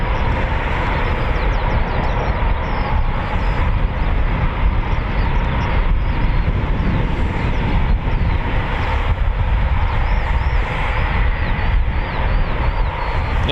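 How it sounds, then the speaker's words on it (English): A Eurofighter Typhoon FGR4 jet at RAF Coningsby makes a steady, broad roar that holds level and loud without letup, with no voices heard. "Our first spring Typhoon."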